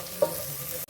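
Crushed garlic and onion sauté in a pan with a steady soft sizzle, one brief utensil clink near the start and a short knock near the end, no voices.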